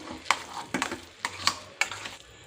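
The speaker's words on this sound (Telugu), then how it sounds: "ఫ్లేమ్ అడ్జస్ట్ చేసుకుంటూ వేయించుకోవాలి దీన్ని" Cooked moong dal fries in a pan, a spatula knocking and stirring it in repeated sharp strokes about every half second over a light sizzle, close by and without speech.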